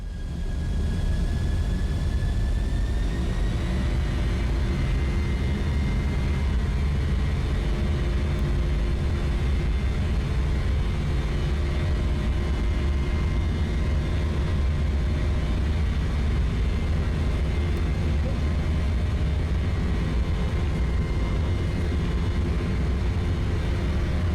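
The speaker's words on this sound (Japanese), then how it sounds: "スロットルを前に倒して離陸させます" Embraer E-Jet engines spooling up on the takeoff roll in Microsoft Flight Simulator, a loud steady turbofan roar with a rising whine that settles into a sustained even drone, no talk.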